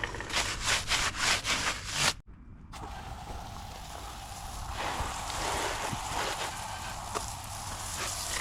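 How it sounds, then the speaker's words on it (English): A stiff brush scrubs a dirt bike's chain and sprockets in quick, rasping back-and-forth strokes for about two seconds, then the scrubbing stops and a steady wash of spray or rinse noise carries on. "we're going to scrub our chain and sprockets"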